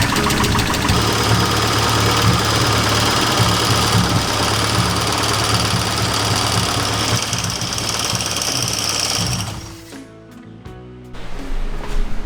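Mazda 121 car engine idling after an engine swap, a loud, steady close-up rumble with a knocking, chattering texture that drops away near the end before a brief return of mechanical noise; no talking.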